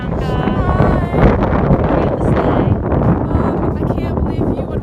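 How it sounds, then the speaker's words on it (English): Strong, cold outdoor wind buffets the microphone in steady, loud roaring gusts throughout, with no clear voices over it. "It's so windy too."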